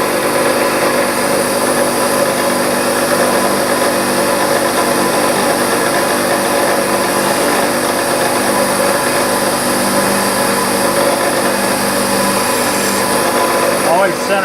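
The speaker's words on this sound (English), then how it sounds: "I'm going to drill the clearance holes in the workpiece." A steady, high-pitched whine of a machine center drilling clearance holes in a metal workpiece runs without pause, loud and close, holding an even tone throughout.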